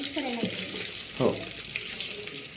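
Chicken 65 deep frying in hot oil in a pot, giving a steady close sizzle and bubbling hiss, with a brief voice speaking over it partway through.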